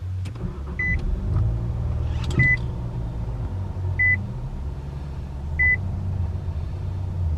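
Inside a 2022 Nissan Sentra SV with leather interior, a low engine rumble runs under four evenly spaced electronic chimes, with a brief clunk partway through as the push-button start brings the car to life.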